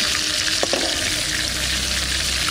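Whole spices (cardamom, cloves, dried red chillies and cumin) hit hot mustard oil in a wok, giving a loud, continuous, crackling sizzle with one brief sharper spatter near the start.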